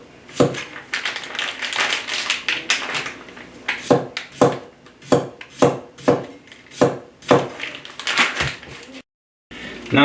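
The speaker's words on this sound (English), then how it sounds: "I have this pickled radish. Let's give them a few slices." Sharp knife slicing through pickled radish on a cutting board, a steady series of crisp, close chops with brief pauses between strokes.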